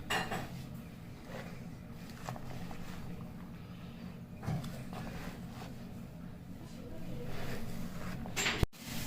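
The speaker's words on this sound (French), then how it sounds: "On va bien mélanger." Spiced beef samosa filling being stirred in a pot, with soft scraping and clinking of a utensil against the metal, steady and fairly quiet, plus brief faint clatter near the end.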